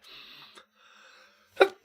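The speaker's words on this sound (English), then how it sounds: "I gotta sneeze." A single sharp sneeze bursts out near the end, loud and close, following two stretches of quiet, tonal game music from a fan-made shoot-'em-up.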